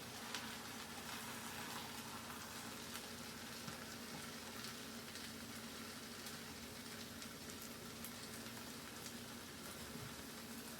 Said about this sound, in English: So I have to add the sausage now.